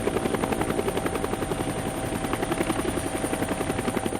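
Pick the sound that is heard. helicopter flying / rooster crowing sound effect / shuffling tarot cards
helicopter flying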